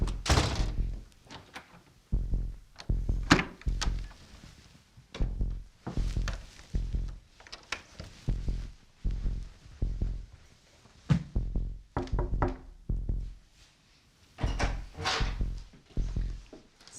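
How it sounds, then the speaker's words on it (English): A door opened and shut over and over during a paranormal investigation, giving loud, close thunks and bumps in an irregular rhythm with brief quiet gaps. "So yeah, you can hear the door."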